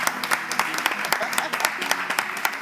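Audience applause for a coach at a French-language slam show, with sharp, distinct claps coming in an uneven, fairly close patter and a voice heard under it.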